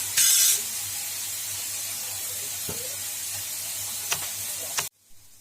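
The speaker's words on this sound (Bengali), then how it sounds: "আদা শুকনো লঙ্কা বাটা, পেঁয়াজ কুচনো, রসুন থেঁতো সবই তেলের মধ্যে দিয়ে একটু ভালোভাবে ভাজা ভাজা হতে দিতে হবে।" Ginger, dried chilli paste, chopped onion and crushed garlic frying in oil, giving a steady close sizzle with occasional stirring clinks and a brief louder hiss near the start, cutting off abruptly at the end.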